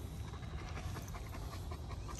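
A young Doberman pants rapidly and steadily up close, a continuous rhythmic huffing breath with no talk over it.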